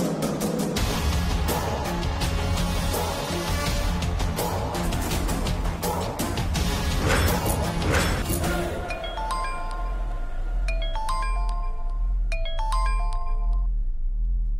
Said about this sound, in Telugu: ఆ స్వరూపకు ఫోన్ చేద్దాం.